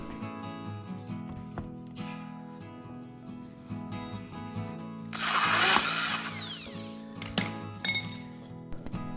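A power drill bores holes through plywood panels for a homemade Bluetooth speaker, with a loud whining burst of drilling midway between quieter clinks and tool handling.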